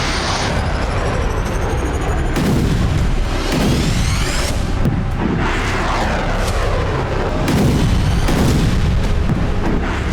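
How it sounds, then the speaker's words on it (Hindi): Ukrainian HIMARS multiple rocket launcher attack, with loud, continuous booming rumble and repeated heavy blasts and whooshes across the whole stretch, no voices. "ये यूक्रेन के high Mars multiple rocket launcher हमले का वीडियो है"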